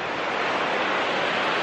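A river in Merano, Italy, rushes in a steady, loud wash of flowing water with no other sounds on top.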